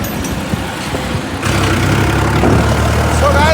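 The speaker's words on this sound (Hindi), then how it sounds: "ट्रैक्टर चला रहे हैं बढ़िया" A tractor engine runs steadily while the tractor is driven, a loud close rumble that grows heavier partway through, with no talk over it.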